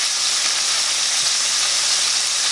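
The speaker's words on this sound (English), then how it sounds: "Basically, all we're doing here is frying them some." Canned potatoes fry in a pan on a stovetop, a steady bright sizzle and hiss of hot oil that carries evenly from start to finish.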